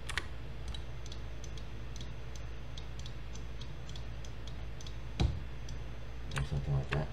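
Crisp, sparse computer mouse clicks during 3D hard-surface modeling, ticking out irregularly over a steady low electrical hum, with a sharper knock and a small cluster of taps near the end.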